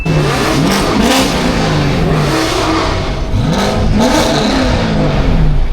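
A loud Ford Mustang GT engine revs up and down repeatedly, a deep rumbling roar rising and falling close by.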